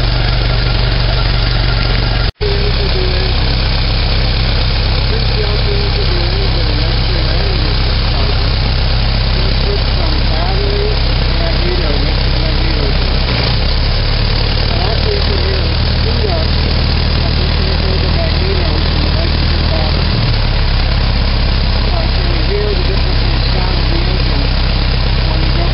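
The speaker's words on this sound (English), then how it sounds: "as soon as the spark hits, the engine will start" A Model T Ford engine idles after a hot start, a loud steady low rumble with a faint rhythmic beat, close by and continuous, with a person talking over it at times.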